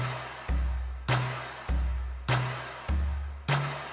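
Electronic beat in a Squid Game style, with deep bongo hits that shift pitch up and down and sharp layered claps, repeating in a steady loop of about six strikes over four seconds.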